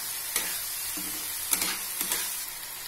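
Boiled chana dal being fried with spices in a pan for a jackfruit dal dish, giving a loud, steady hissing sizzle with a few soft scrapes of a spoon stirring through it, close and without talk.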